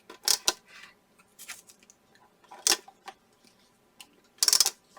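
Scissors trim off paper die-cut pieces for a masculine scrapbook layout, giving several short, crisp snips in irregular bursts, close and fairly quiet with small rustles between.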